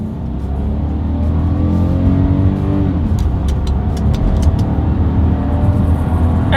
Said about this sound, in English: let's see how quickly we can get the new 2021 Volkswagen Atlas here up to speed